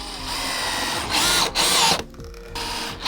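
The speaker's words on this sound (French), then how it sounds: "Ce qu'il faut, c'est une bonne visseuse qui marche bien" A cordless power screwdriver drives screws into pallet wood without pre-drilling, loud close whirring bursts that rise in pitch, pause, then resume, with short gaps between runs.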